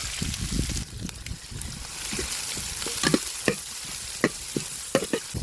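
Steady sizzling of chopped onions frying in hot oil, with stirring and scraping clatter now and then, close up with no voices.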